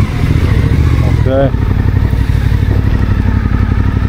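A motorcycle engine runs loud and close throughout on a narrow street, a steady rough drone, while someone briefly speaks over it.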